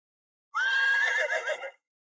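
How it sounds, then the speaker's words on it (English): A horse pulling a carriage gives a single clear whinny, loud and close, rising then wavering before fading after about a second, with silence around it. "Duke Elegy looked out the window of his horse-drawn carriage"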